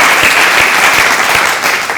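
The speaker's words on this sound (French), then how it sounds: "Je veux qu'on applaudisse Bobo Dioulasso encore." A live comedy-show audience applauds loudly and steadily, dense clapping filling the room for about two seconds with no voices over it.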